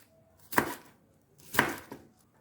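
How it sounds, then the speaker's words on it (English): A knife chops green beans on a board in two crisp, isolated strokes about a second apart, close and clear against near silence. "Chop the green beans as well."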